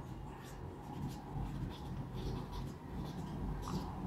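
Steady scratching of writing on a board during a physics lesson, a continuous close scraping texture with faint strokes, and a voice faintly present at moments.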